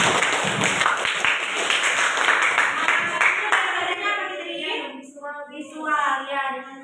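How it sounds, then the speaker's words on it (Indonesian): Classroom students clapping for a classmate, a burst of loud group applause that fades after a few seconds as voices begin talking. "tepuk tangan untuk Fitri"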